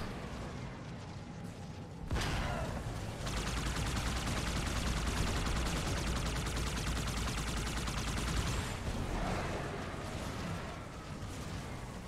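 Sustained gunfire in the game Halo 2, first quieter, then a loud, dense barrage of rapid shots and blasts that holds for several seconds before easing, close and continuous with no talk over it.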